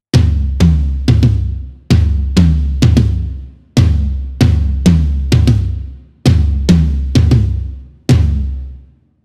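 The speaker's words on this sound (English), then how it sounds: "if we were to play just the tom accents without the underlying kick" Drum kit tom accents played alone with no kick drum underneath, a dozen or so resonant booming hits in grouped, syncopated bursts with ringing decay between strikes.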